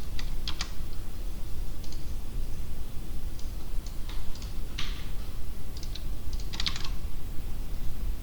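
Someone typing on a computer keyboard while editing code, irregular clusters of quiet key clicks in short bursts over a steady background hiss.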